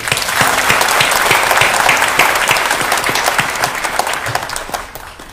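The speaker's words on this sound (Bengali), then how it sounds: "তাদের হাততালি দিচ্ছি, যেহেতু তারা প্রতি স্তর থেকে পার হয়ে এর দূরে আসতে পেরেছে।" An audience claps for young winners at a national address event, a dense, loud, sustained round of applause that tapers slightly toward the end, with no speech over it.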